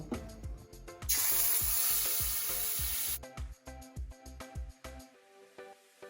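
Marinade spices frying in oil and ghee for chicken chap: a loud, sustained hiss of sizzling bursts out mid-way, surrounded by a steady run of rhythmic metal scraping and stirring in the pan, close and dominant.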